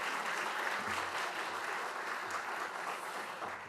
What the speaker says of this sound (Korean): 여러분 큰 박수 한번 주시면 감사하겠습니다.